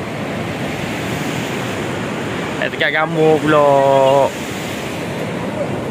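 Sea surf rolls onto Pantai Melawi beach in Bachok, Kelantan during the rainy monsoon season, a loud continuous broadband wash with someone speaking briefly over it midway.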